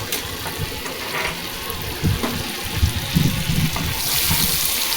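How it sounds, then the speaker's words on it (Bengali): Butter sizzles in hot oil in a pan while cooking gondhoraj lemon chicken, a steady close hiss and crackle with small popping bursts that swell toward the end. "তেলটা গরম হয়ে গেছে, এরপরে আমি বাটারটা দিয়ে দিচ্ছি তেলের মধ্যে"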